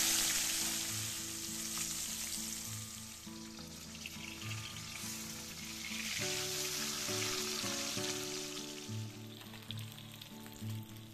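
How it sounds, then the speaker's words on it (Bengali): Koi fish lightly frying in oil for a Bengali mustard fish curry give a steady, close sizzle throughout. A faint tonal hum runs underneath, and no one speaks. "এবারে মাছগুলো হালকা করে ভেজে নেব।"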